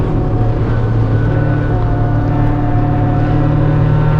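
A race car engine in a racing video game at Mid-Ohio drones steadily at constant pitch, loud and close, with no talk over it.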